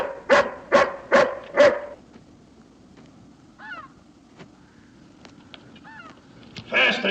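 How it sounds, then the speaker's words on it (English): A hound dog barks loudly four times in quick succession nearby, then gives a few fainter whines and yelps in a quiet outdoor setting. "Can't you temper this hound some?"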